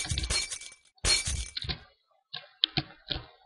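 Glass shattering in the video game Happy Wheels: a loud crash of breaking panes, a second smash a second later, then scattered tinkling shards and small clinks trailing off into quiet.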